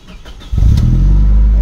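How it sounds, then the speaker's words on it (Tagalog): A Toyota Fortuner with the 2TR engine cranks briefly and catches, then settles into a loud, steady idle close by, with no talking over it. "So ngayon, paandarin natin ang makina at mag-observe po tayo. Engine start."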